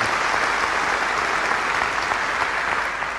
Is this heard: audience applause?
yes